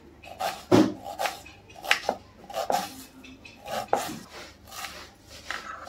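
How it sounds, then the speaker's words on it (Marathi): A knife cuts half an onion finely on a board for white sauce pasta, making irregular close taps and thuds with short scraping pauses. There is no talking. "कांदा पण अर्धाच घेऊया। याला पण असं बारीक कापूया।"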